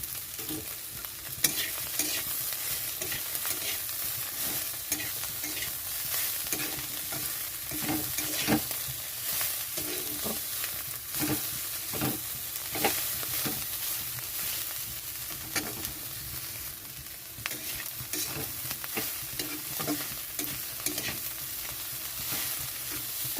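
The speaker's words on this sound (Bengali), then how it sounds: "এরকমভাবে একটু ভেজে নিতে হবে" Small dried shrimp fry in a pan with a steady sizzle, punctuated by repeated scraping stirs and rattling at close range.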